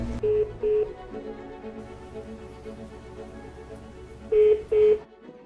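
Paired telephone keypad tones beep twice at the start and twice again near the end as a call is transferred, each press short and clear, with a quiet line hum between them.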